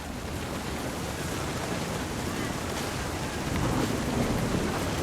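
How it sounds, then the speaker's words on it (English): Storm ambience in the video game What Remains of Edith Finch, with a continuous low thunder rumble blended with rain-like noise. It stays fairly quiet and even, then swells slightly toward the end. "The thunder sounded much too close and full of angry power."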